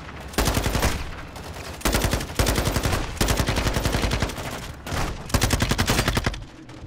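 Automatic gunfire in the Call of Duty video game, loud and close, coming in several long rapid bursts separated by short pauses and sustained over most of the stretch, with no talk.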